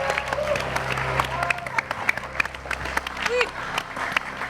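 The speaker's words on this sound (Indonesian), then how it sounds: "saat kamu sekali lagi mendengar tepuk tangan yang sangat banyak dan keras sekali," Big crowd of clapping from a studio audience at a comedy variety show, dense and sustained over steady background music with a few voices mixed in.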